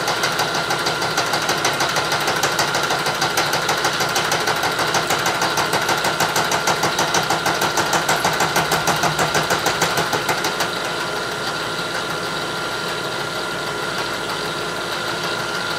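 Milling machine running a single-edge fly cutter at fairly high spindle speed, a steady close mechanical hum with rapid rhythmic chatter that eases into a smoother tone near the end, no speech.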